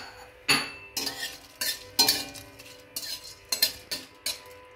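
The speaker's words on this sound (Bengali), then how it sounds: "গোটা গরম মশলা, শুকনো লঙ্কা, তেজপাতাটা ফোড়ন দিচ্ছি" Whole garam masala, dried red chillies and bay leaf hit a hot dry kadai for tempering, giving several sharp bursts of crackle and sizzle with metal utensil scrapes and clinks, close and fairly quiet.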